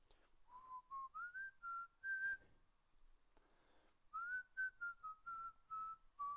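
A person whistling a song, a clear, quiet melodic tune in two phrases of short sustained notes separated by a brief pause, heard alone without talk.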